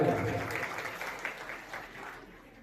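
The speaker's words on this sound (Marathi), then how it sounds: "त्यासाठी एकदा आपण जोरदार टाळ्या वाजवूया" A crowd at a retirement felicitation ceremony claps together in a dense burst of applause that fades gradually over a couple of seconds, with voices faintly mixed in.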